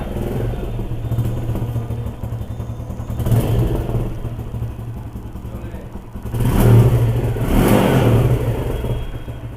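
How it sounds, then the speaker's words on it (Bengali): A motorcycle with a faulty clutch holder idles with a steady low rumble close by, then revs twice in rising swells as it is put into gear. "গাড়ি এখন স্টার্টে আছে তো এখন আমি গিয়ার দিব"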